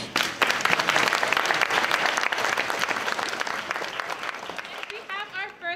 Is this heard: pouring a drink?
no